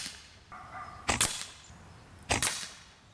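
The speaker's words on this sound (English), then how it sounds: "I'm just gonna keep on shooting." An AEA Precision SF dual-action PCP air rifle fires two sharp, close shots about a second apart, each a crisp crack with a short ringing tail over quiet background.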